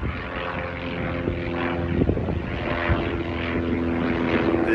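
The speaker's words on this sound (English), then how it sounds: "I always catch a plane flying over here." A propeller airplane flies over Springmaid Pier in Myrtle Beach, South Carolina, its steady engine drone rising gradually in loudness over a background of wind and surf, with no one speaking.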